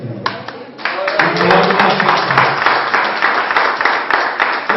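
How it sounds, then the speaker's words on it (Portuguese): A church congregation claps loudly for the Lord during a service, with a few opening claps building into sustained, dense applause that holds steady to the end. "Dá uma grande salva de palmas para o Senhor."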